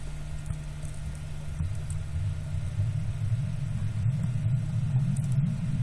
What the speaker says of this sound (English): Anyways, let's fire up our engines.